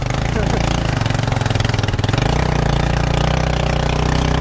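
A loud motorcycle engine runs steadily and close, with a rough, throbbing drone climbing a hill in Pagbilao, Quezon, while people talk over it.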